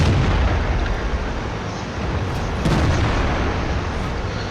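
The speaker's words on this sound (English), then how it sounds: "There is a Panther out there who's just getting nailed by artillery." Artillery shells pound a Panther tank in the World of Tanks video game, a loud continuous rumble of booming impacts with a stronger burst partway through.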